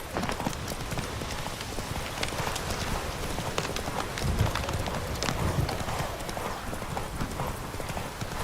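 Roach the horse trots in The Witcher 3, hooves clip-clopping in a steady, continuous rhythm at close range over a bed of rain-like background noise.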